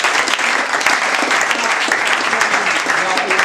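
An audience at a 2016 PSLS competition claps for a speaker, a steady, lively burst of applause with voices mixed in.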